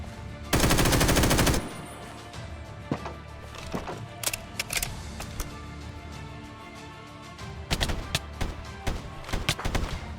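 Gunfire in a modded Minecraft war battle opens with a loud, rapid automatic burst lasting about a second, then sharp single shots and short volleys crack at uneven intervals, some near and some farther off.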